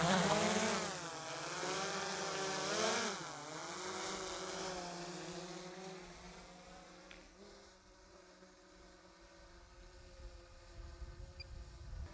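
A DJI Mavic 3 drone spinning up for takeoff, a close high-pitched propeller whine and buzz that wavers in pitch, then fades as it flies away, leaving a quieter background.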